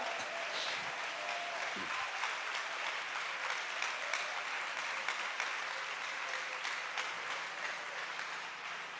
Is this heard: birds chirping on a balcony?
no